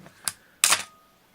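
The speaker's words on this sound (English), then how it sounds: "let's advance this. We'll watch the shutter curtains go by." Canon AE-1 Program 35mm film SLR camera being checked over: two crisp mechanical clicks about a third of a second apart, the second longer and brighter as the film advance and shutter curtains fire, close and alone.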